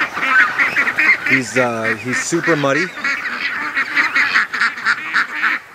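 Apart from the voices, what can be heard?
ducks quacking and geese honking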